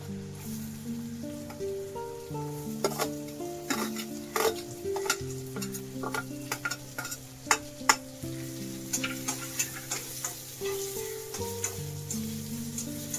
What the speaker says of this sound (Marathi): कांदा भाजून घेऊया लय नाही भाजायचा थोडासा भाजायचा थोडा लालसर करायचा